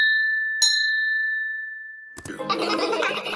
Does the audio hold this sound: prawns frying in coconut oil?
no